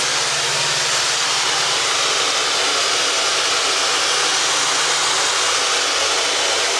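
A hair dryer blows a steady, loud, close rushing roar of air while curly hair is dried at the roots, unbroken from start to finish.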